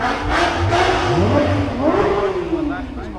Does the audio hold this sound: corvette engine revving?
yes